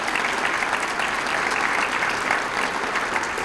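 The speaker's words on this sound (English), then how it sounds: "So could you please give them a round of applause?" An audience at a 2021 State of the City address applauds with dense, steady clapping that holds at an even level for the whole stretch.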